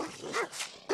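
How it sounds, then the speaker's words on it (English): A Chorkie, a small Chihuahua and Yorkshire Terrier mix, barks a few times in quick succession, sharp little yaps at close range with nothing else around them. "Chorkies like to bark"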